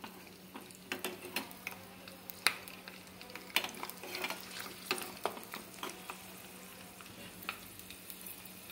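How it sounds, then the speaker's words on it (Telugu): Mustard seeds, fenugreek and peeled garlic fry as a tempering in a pan for tomato lemon dal. Irregular sharp crackles and pops burst over a soft, steady sizzle. "తాలింపుని కొంచెం వేగనిద్దాము."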